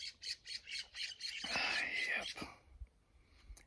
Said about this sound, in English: Birds are flying and chirping.